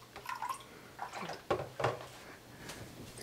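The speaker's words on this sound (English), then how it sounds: "let's go ahead and pour in some of the remainder of our grape juice" Grape juice pours into a glass carboy while making grape pyment, a few splashy gurgling bursts close by with short pauses between them, no talk over it.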